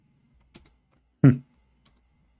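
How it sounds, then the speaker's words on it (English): Several short, sharp keypresses on a computer keyboard break a near-silent background, with a brief heavier thump among them. "Oh, I'm typing in English again."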